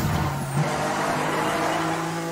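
An Aston Martin in Need for Speed The Run drones at a steady, sustained engine pitch, close and fairly loud, with no voices over it.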